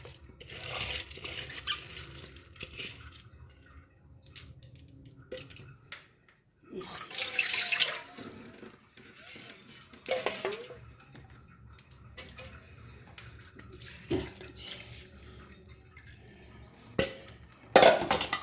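Soaked mung dal sits in a sieve as water drains and splashes in irregular bursts. Close, soft clinks and handling noises come between the quiet gaps.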